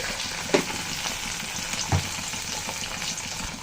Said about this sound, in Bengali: সুন্দর করে মশলাটা কিন্তু কষিয়ে নেব।